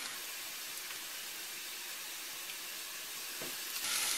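Onion, garlic and chopped parsley fry in a pan with a soft, continuous sizzling hiss, faint and even throughout with a slight rise at the end, and no voices.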